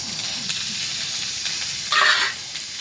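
Tomatoes are tipped into a pan of frying ginger and garlic, bursting into a loud sizzle about two seconds in over a softer ongoing fry, with no talk.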